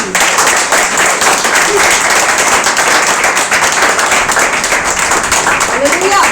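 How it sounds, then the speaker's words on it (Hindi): A church congregation at a Hindi sermon gives dense, loud applause, many hands clapping continuously and evenly at close range, with a faint voice briefly audible near the end. "अब बजाओ ताली"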